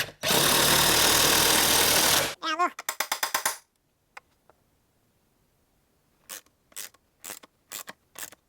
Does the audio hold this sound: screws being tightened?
yes